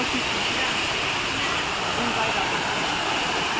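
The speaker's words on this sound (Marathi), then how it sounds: "हे बघा मस्त एक धबधबा इथे आहे" A mountain waterfall gives off a steady, loud roar of rushing water with no break, close by and filling the whole scene.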